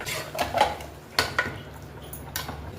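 A spoon scrapes and clinks against a pot while a thick yogurt marinade is stirred, in a few irregular strokes over quiet background hum.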